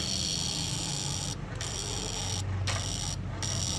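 Starter relay on a Yamaha NMAX scooter with a starting problem, clicking quietly three times at close range when the brake is pressed, over a steady background hum.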